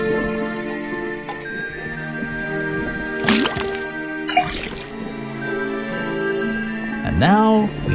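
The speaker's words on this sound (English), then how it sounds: "then tap the faucet." A faucet tapped to drip liquid into a cauldron in the Detective Grimoire video game, with several short drips and splashy liquid sounds over a steady musical background.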